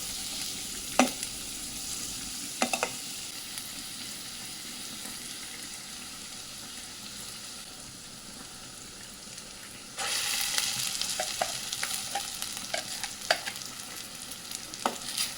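Finely chopped onion frying in a pan with onion, ginger, garlic and tomato paste makes a quiet sizzle broken by occasional spoon taps, then a louder, fuller hiss with stirring scrapes in the later part.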